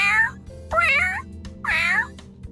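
A person imitates a cat's meow three times, each a drawn-out, wavering mewing call separated by short pauses, loud and close with a faint hum beneath.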